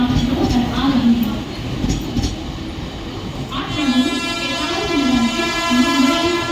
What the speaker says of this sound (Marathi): मुंबई छत्रपती शिवाजी महाराज टर्मिनस जाने वाली हिमी लोकल थोड़े ही समय में प्लैटफॉर्म क्रमांक 2 पर आ रही है।